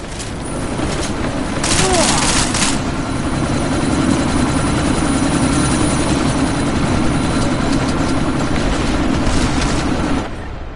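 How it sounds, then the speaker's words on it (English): A helicopter idles loudly on the verge of takeoff in Deus Ex, a steady whirring rotor drone throughout with a few sharp bursts near the start, and a voice talks over it. "That chopper's about to take off!"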